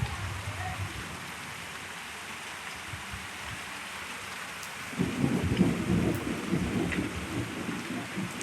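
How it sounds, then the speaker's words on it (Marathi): A March thunderstorm: steady rain hisses throughout, then a low rolling rumble of thunder swells midway and lingers under the downpour, fairly distant and heavy. "विजांचा आवाज पहा."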